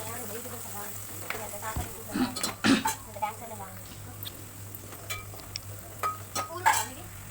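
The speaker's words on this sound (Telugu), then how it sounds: "ఇప్పుడు అల్లం వెల్లుల్లి పేస్ట్ కూడా వేసుకుని ఇలా కలుపుకుంటూ పచ్చివాసన పోయే వరకు ఫ్రై చేసుకోవాలండి" Ginger garlic paste stirred and fried in a pan for fish curry, with a spoon scraping and clinking against the pan under a soft sizzle while someone talks.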